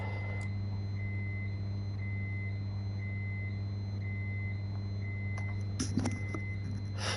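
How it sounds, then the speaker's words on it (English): A steady electronic alarm tone drones on and on in a Train Sim World 4 cab, harsh and fire-alarm-like, holding without a break, with a few faint clicks and knocks near the end. "I thought that was my fire alarm going off then."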